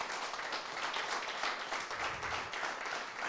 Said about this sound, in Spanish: Un aplauso al Señor, aleluya.